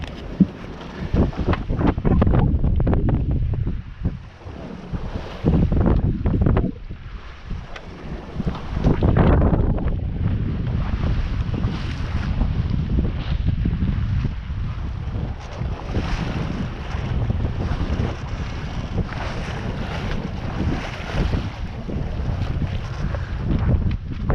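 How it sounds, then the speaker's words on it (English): Steady wind buffets the microphone aboard a sailboat at the start of the Jester Challenge off Plymouth, around 14 knots, with gusty rumbling bursts and the wash of water alongside the hull throughout. "We've got a nice wind."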